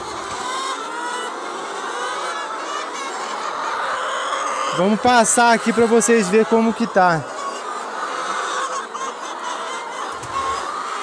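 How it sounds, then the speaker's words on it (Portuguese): Many hens cluck and squawk in their nesting boxes at a thousand-bird laying farm, a loud burst of close clucking in the middle while someone talks over the flock's steady background murmur. "E muita galinha nos ninhos."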